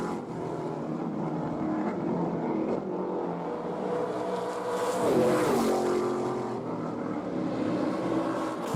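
Trans Am race cars, including a Chevrolet Camaro, roar past at Portland with a loud sustained engine drone, and one car's pitch swells and sweeps as it passes close by midway.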